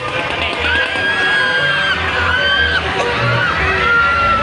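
Visitors scream and shriek on amusement rides at a busy night market, rising and falling wails over a steady crowd din, heard from a short distance.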